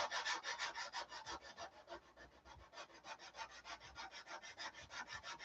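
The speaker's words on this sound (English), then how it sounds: "But I'm sanding down this putty." Hand sanding putty on a parade float with 320 grit sandpaper, a quiet close-up rhythm of brisk back-and-forth rasping strokes, about four per second, with no voices.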